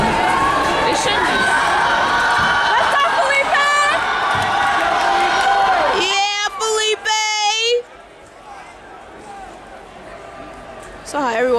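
A crowd at an indoor men's 4x400 relay race cheers and shouts loudly and continuously, with high whistles and whoops rising near the middle before the noise drops to quieter chatter, with people talking close by.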